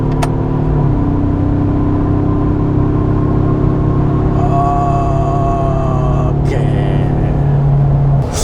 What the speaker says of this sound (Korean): 이 엔진 소리는 끝까지 유지가 되네요.